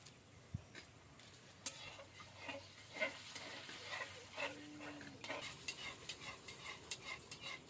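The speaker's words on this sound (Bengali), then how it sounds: "ফুচকাটা কিন্তু ডুবো তেলেই ভাজতে হবে।" Fuchka (golgappa) puris deep-frying one after another in hot refined oil, a steady low sizzle and bubbling with scattered soft clinks and scrapes of a utensil, fairly faint and close, no voices.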